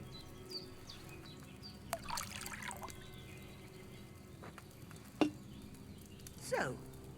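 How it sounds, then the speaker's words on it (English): Wine is poured from a pitcher into a cauldron in the medieval video game Kingdom Come: Deliverance II, a few brief quiet splashes and trickles spread over several seconds with soft ambient background and occasional faint bird calls. "So, what did you pour in there? Wine, of course."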